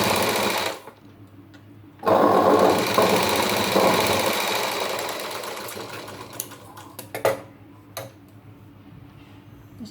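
A sewing machine stitches blouse lining fabric in steady whirring bursts: a short run, a pause, then a longer continuous run that gradually slows, ending in a few brief ticks and stops. It is close and loud, with no talking.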